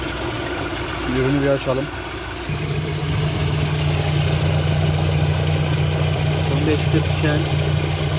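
A Lada 4x4 engine idles after warming up on petrol, a steady low rumble with an even drone that settles in midway, heard close, while someone talks over it at the start.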